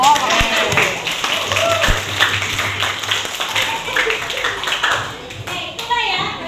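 A classroom of students claps hands together in a busy burst of overlapping claps, with children's voices mixed in and some talk over the clapping.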